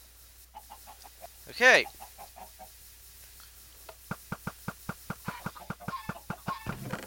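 Chickens cluck inside a coop in a blocky video game world, with one louder squawk near the start and then a quick run of sharp, regular clucks. A voice speaks briefly.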